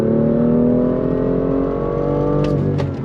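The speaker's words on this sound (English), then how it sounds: "we're gonna go on throttle from a dead stop one more time" A 2018 BMW M2 pulls hard from a standstill, its engine note rising loudly and steadily through the revs, close and continuous, with a brief chirp near the end.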